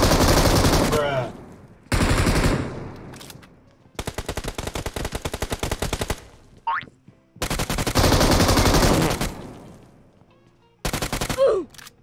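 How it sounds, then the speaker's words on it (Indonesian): Gunfire in the battle royale game PUBG, with several loud bursts of rapid automatic fire separated by short pauses and a few single shots. The shooting is close, panicked and spraying, and no one talks over it. "Saking ngawurnya dia nembak, panik gua guys. Ngawur banget tembaknya, kutak kutak kutak semua ditembak kan."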